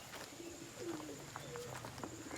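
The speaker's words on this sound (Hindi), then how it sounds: "ये आप देख सकते हैं हमारे कबूतर बहुत ज़्यादा तादाद में है।" Pigeons on a rural farm in Azad Kashmir coo softly in several short, low calls over a faint background hum, fairly quiet and with no speech.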